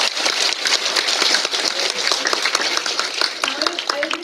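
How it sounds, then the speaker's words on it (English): An audience at an author event breaks into a big round of applause, dense clapping that holds steady, with voices audible toward the end. "I would request all the audience to give a big round of applause"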